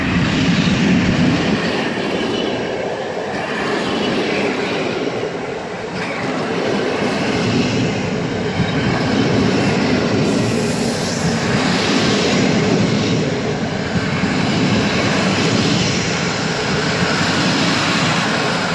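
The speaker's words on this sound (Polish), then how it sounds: "Pociąg TLK Wybicki do Świnoujścia." A TLK Wybicki passenger train bound for Świnoujście passes close by, a loud steady rush of wheels and wagons with rhythmic clattering over rail joints that holds throughout.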